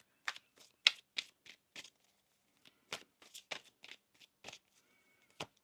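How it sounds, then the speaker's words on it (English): Tarot cards shuffled by hand in a series of crisp, papery riffling bursts, irregular and close, with short pauses between clusters of flicks. "One more shuffle here."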